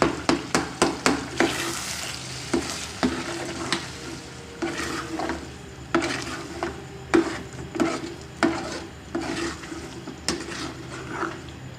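A spoon scrapes and clatters around a pan as eggs fry in onion masala, sharp rhythmic knocks repeating every second or so over a continuous close sizzle, with no talking.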